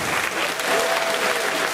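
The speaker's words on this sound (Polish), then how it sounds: "Jeszcze raz gorące brawa dla zwycięzców." Warm applause for the winners at the MFKiG 2011 comics and games festival gala, a brief, steady burst of crowd clapping at full strength throughout.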